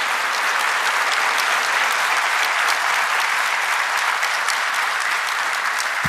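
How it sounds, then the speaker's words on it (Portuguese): Dense, sustained applause from a large crowd at a Brazilian government handover ceremony honoring General Braga Neto, steady and loud throughout without any voices. "vamos receber com uma salva de palmas esse general extraordinário"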